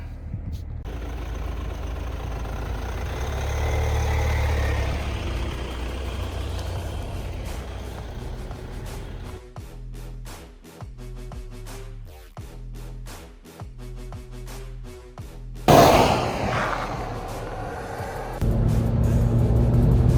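A 2026 Kia Tasman pickup runs through a drive, a steady engine drone and road rumble close inside the cab, with a rhythmic mechanical pulsing mid-way and a louder jolt near the end, no speech.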